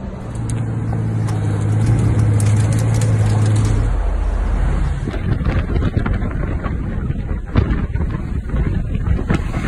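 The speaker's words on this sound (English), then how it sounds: "here we are, behind the wheel of a Pagani Huayra in Miami" A Pagani Huayra supercar pulls away in Miami, its engine droning steadily before the pitch rises and the sound turns rougher and gustier as it accelerates, with heavy wind buffeting the microphone throughout.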